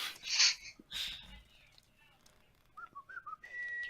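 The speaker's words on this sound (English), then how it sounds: "I'm whistling" A person whistling a few short, quiet, wavering notes up close, after some louder breathy noises.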